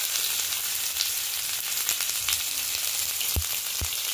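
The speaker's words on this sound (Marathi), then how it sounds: "हा कांदा मस्त आपण ह्याच्यात मॅश करून घेणार, जरा फ्राय करून घेणार आहे" Chopped onion sizzles and fries steadily in a pan already used for frying catla fish, the start of a prawn masala; a continuous close crackle runs throughout with a couple of sharp knocks near the end.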